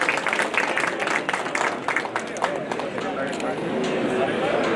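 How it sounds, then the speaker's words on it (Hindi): Applause from the audience at a district bar association oath ceremony for newly elected lawyers' executive committee members, a dense wash of many hands clapping steadily throughout, fairly loud and continuous, with voices mixed in. "आपसे निवेदन है तालियां बजा दिया करें"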